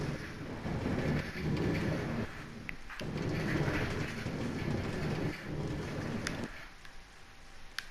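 A Minecraft minecart rolls along rails with a steady rumbling clatter and occasional clicks over about eight seconds, loud and continuous, easing off near the end.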